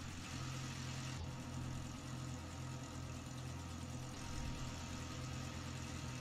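A Robinson R22 helicopter engine runs steadily in the X-Plane 12 simulator, a faint, continuous droning hum with a low throb that slightly sags as the revs fade.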